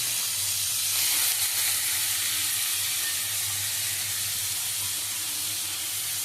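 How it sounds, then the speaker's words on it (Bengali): Finely chopped onion, garlic, green chili and ginger fry in hot oil with a loud, dense, continuous sizzle and hiss close by, steady throughout with no voices. "এবার এটাকে ভালো করে ভাজা ভাজা করে নেব।"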